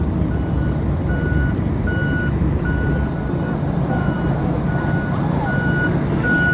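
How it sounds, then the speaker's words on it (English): A snow removal truck reverses, its steady high beep repeating at an even rhythm over a loud, constant engine rumble, with no voices. "This is the snow removal vehicle."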